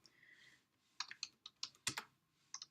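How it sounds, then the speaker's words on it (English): A computer keyboard being typed on in a heading block, a handful of sharp, irregular key clicks close up, with a quiet stretch between the first strike and a later pair. "This is a heading I'm typing in the heading block"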